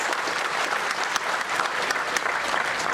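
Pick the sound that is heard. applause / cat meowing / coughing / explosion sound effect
applause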